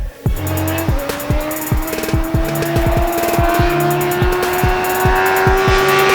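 A 2017 Suzuki GSX-R1000 motorcycle screams around a race track, its loud engine note rising steadily through the gears with sharp shift breaks early on, then a sustained high-revving whine close to the microphone.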